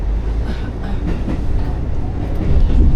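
A train rumbles through a railway station in Japan, a loud, close, continuous roar of wheels and carriages with soft rhythmic clatter that swells toward the end, with no voices.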